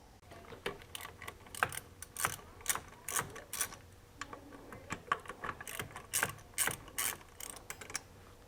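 A ratchet turns 13mm bolts on the oil dipstick bracket of a Duramax LML engine, giving steady, rapid, close-up clicking strokes with brief pauses between them.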